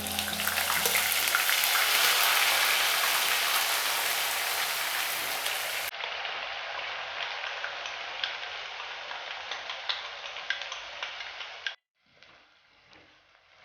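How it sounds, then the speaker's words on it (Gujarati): Onion paste sautéing in a pan for a soybean chunk curry, a steady close crackling sizzle with fine popping ticks that softens slightly over time, then briefly drops away before resuming. "ડુંગળીને આપણે થોડીક વાર સાંતળી લઈશું"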